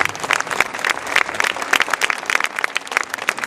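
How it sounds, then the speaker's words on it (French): Steady audience applause, many hands clapping at once, fairly close and sustained throughout with no talking over it. "il mérite les applaudissements"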